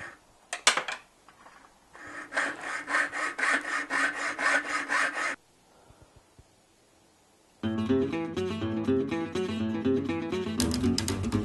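A small bar is sawn by hand in two bursts of steady back-and-forth strokes, separated by a short pause. The rasping is close and fairly loud.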